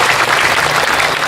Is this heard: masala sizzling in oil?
no